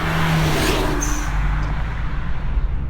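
A Hyundai Genesis Coupe 2.0T cruises in normal mode, its engine a steady low drone inside the cabin, with a brief higher whine partway through before it settles back to an even, continuous hum.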